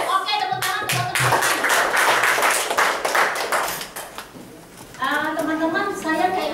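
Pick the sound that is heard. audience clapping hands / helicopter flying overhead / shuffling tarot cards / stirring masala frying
audience clapping hands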